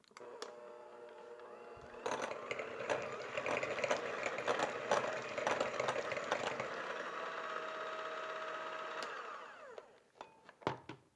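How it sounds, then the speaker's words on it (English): A hand mixer beating butter in a bowl, starting with a few clicks, then a loud sustained whirring buzz with the beaters rattling against the bowl for several seconds before it winds down and ends in scattered knocks. "give the butter a few rounds with the hand mixer just to soften it and spread it around"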